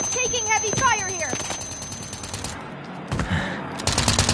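Heavy video game gunfire, rapid automatic bursts and scattered shots crackling over a chirping, whistling soundscape, loud and close with a few short pauses.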